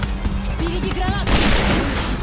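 Grenade blasts in the online shooter A.V.A, heavy booms mixed with gunfire bursts over an intense battle, with shouting voices layered on top throughout.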